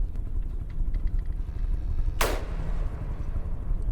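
Ship cannon in the game From the Depths firing once, a single sharp blast over a low rumbling background.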